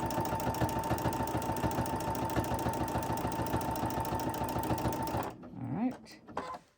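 Close, loud sewing machine quilting a practice block along a wiggly line, its needle running in a steady fast rhythm for about five seconds before stopping, followed by brief handling noises.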